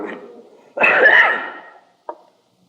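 A single harsh cough close up, preceded by a faint breathy sound and followed by a short throat noise.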